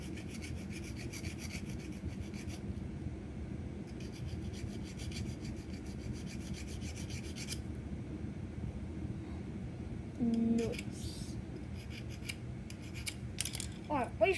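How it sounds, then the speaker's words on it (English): Steady rasping strokes come from a hand file sharpening a rock, heard up close at a low level, with a short pause and a few knocks near the end. "I'm gonna do some off-camera filing here."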